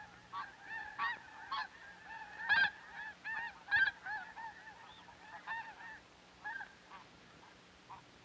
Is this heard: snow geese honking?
yes